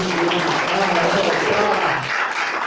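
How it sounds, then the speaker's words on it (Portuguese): Church congregation applauding together during a Portuguese-language worship service, a dense steady wash of many hands clapping at full strength, with voices mixed in underneath throughout. "Pode aplaudir."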